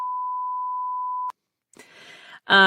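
A steady single-tone censor beep added in editing, loud and sustained for over a second, then cut to silence before talking resumes.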